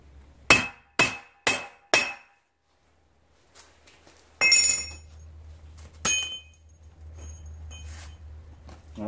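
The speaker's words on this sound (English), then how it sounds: "I just want to do one final test. And that's just to see what happens if I hit these with a hammer when they're cold." A hammer strikes a piece of cold, unquenched coil spring steel four times in quick succession, each blow a sharp, ringing metallic clink, followed by a pause, then scattered clattering and a low background hum.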